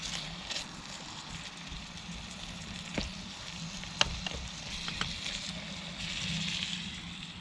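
Chilli chicken frying in a small Trangia 27 series pan over a camp stove flame, a steady close hiss with a few sharp ticks and pops, no talking.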